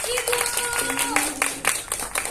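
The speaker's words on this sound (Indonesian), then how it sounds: "Sudah ada Kak Anissa Mutia, tepuk tangan dulu dong." Audience applause at a film press event in Indonesia, a dense spray of clapping lasting a couple of seconds with voices and tonal sounds mixed through it.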